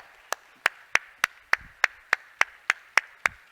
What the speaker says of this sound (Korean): 뜨겁게 들어갈 때까지 우리 박수하겠습니다